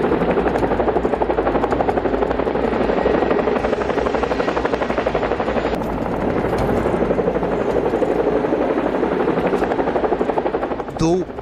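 Two powerful Chinook helicopters fly over the British sky, their rotors beating in a loud, continuous rapid thud with engine roar that holds steady throughout before tailing off slightly at the end.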